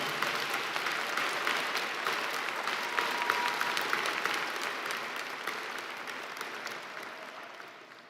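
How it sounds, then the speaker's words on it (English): Applause at a graduation ceremony held in Manchester, New Hampshire: a steady, dense roar of clapping from a large crowd that fills the whole stretch and gradually fades toward the end. "But let's give a round of applause, graduates, to your family and friends."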